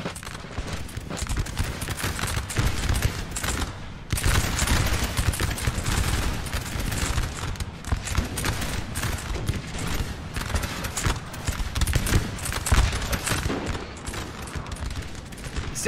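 Dense musket volleys crackle continuously in a Napoleon Total War battle, overlapping shots and rolling gunfire filling the whole stretch with a busy, layered battlefield din.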